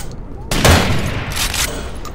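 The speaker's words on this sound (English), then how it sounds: "And I'm already getting shot at." Gunfire erupts in a Rainbow Six Vegas multiplayer match on a campus map, a sudden loud burst of rapid shots after a quiet start, then more bursts of firing further into the clip.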